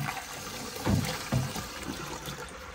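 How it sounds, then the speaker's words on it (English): Water drains and trickles out of a Zanussi SD 2811/W spin dryer that sat in storage, a steady gurgling wash with a couple of louder sloshing surges. "Make sure the water drains out."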